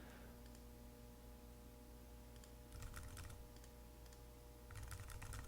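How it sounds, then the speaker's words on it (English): Quick, light keystrokes on a computer keyboard come in short bursts of typing over a steady low hum, close and fairly quiet. "I'll just type in some randomness."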